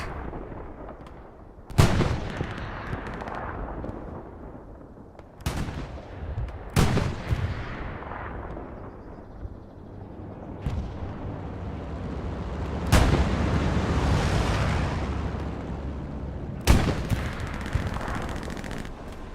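Tank battle in the game Hell Let Loose, with a Panzer IV and a medium tank exchanging fire: several loud, sharp cannon blasts spaced a few seconds apart, each followed by a rumbling decay over a continuous battlefield roar.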